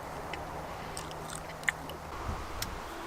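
Someone eats pizza in an outdoor shelter, with soft, close chewing and a few light crunchy bites over a quiet background hum.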